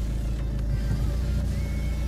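A 2010 Volvo S40 with a 2.0-litre 136 hp engine idles just after starting, a steady low rumble with faint whine above it, close and continuous with no speech.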